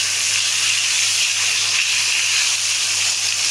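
Hilsa fish frying lightly in a pan gives a steady, even hiss of sizzling oil that stays at the same close level throughout, with no talk.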